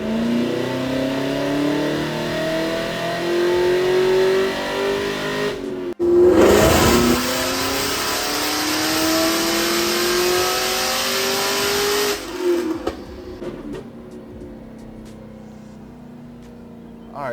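A supercharged G8 running on E85 accelerates hard in third gear, with a loud rising engine roar and supercharger whine climbing steadily over several seconds, then dropping off as the throttle closes.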